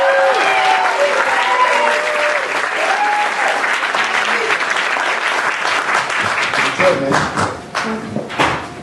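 A live audience claps loudly to welcome a poet to the stage at a spoken-word event, dense sustained applause with scattered whoops and shouting voices over it, fading unevenly near the end.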